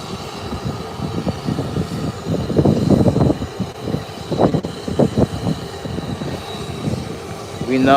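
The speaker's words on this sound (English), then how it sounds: "British Airways that we're waiting on is approaching soon." A British Airways airliner approaches, heard as a broad, steady engine rumble at middle distance that swells and wavers throughout.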